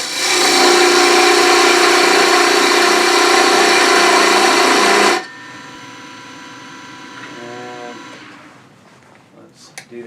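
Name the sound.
wood lathe cutting with a beading and parting tool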